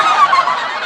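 A voice imitates a goose's honk, a single sustained nasal call of just under a second, loud and close, with no other sound around it.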